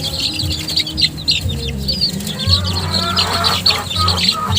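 Soft clucking and chirping from a group of three-week-old domestic chickens, close by and continuous, with occasional higher peeps over a steady low background hum.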